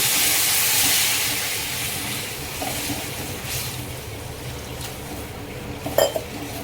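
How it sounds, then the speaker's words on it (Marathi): Water poured into a hot pan of spiced tempering for Maggi noodles, giving a steady steamy hiss and sizzle that slowly fades, with a few soft clinks of utensils near the end. "1 तांब्या भरून पाणी टाकते."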